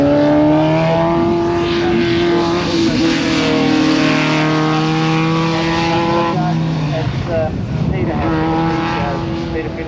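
A race car climbs a hillclimb course, its engine screaming near and loud through rising gears, dipping briefly on a shift or lift near the end before pulling hard again, with a commentator's voice over it.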